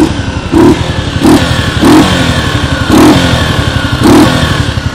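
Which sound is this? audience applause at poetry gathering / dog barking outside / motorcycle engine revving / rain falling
motorcycle engine revving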